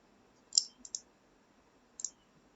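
A computer mouse clicks three times, close and crisp, as a software tutorial is worked through, with two quick clicks followed by a single one after a pause.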